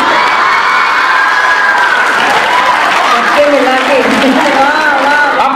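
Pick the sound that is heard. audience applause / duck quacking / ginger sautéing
audience applause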